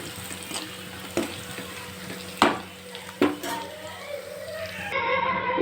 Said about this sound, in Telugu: ఆనియన్ అయితే ఇలా ఫ్రై అయ్యాక కొద్దిగా పసుపు అలానే కారం వేసి ఇలా కలిపేసుకోవాలి